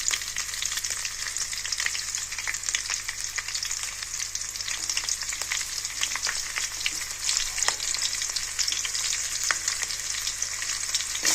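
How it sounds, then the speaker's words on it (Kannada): Mustard seeds, cumin and chopped green chilli frying in hot oil for coconut rice, a continuous crackling sizzle with scattered pops and stirring, steady and close. "ಎಲ್ಲನೂ ಫ್ರೈ ಮಾಡ್ಕೊಳ್ಳೋಣ."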